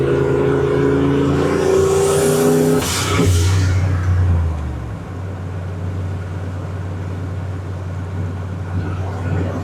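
Turbocharged 331 engine in a 1976 Ford F250 building boost, a loud sustained engine roar with a rising whine that swells, then drops to a steady lower drone as the revs settle.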